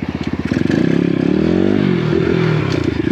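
A small 150 cc Apollo Sano RXF Enduro motorcycle engine revs up close and loud, with a choppy, pulsing exhaust note climbing steadily and holding high, running on its own without anyone speaking.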